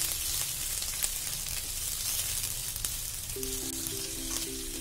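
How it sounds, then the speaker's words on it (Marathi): Square-cut onion pieces sautéing in a pan for a chicken sizzler give a steady, close sizzle with a few light scrapes, no voices. "आपण कांदा घेतलाय चौकोनी आकारामध्ये. आता थोडंसं परतून घेते."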